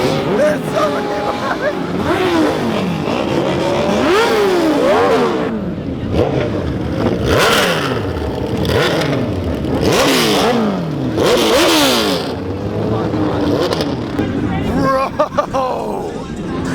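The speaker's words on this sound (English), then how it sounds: "That was legitimately some of the loudest bikes I've ever heard in my life." Extremely loud motorcycles rev hard and accelerate past at a rowdy car meet, with repeated rising and falling engine howls and a crowd chattering underneath throughout.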